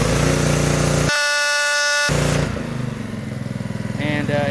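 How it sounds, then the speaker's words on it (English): A Ryobi 3300 psi, 2.3 GPM gas pressure washer engine roars loudly up close. A harsh tonal whine holds for about a second before the engine note shifts and settles into a steady drone. "So right now it's just at idle, so I'm going to pull it and it'll immediately rev up."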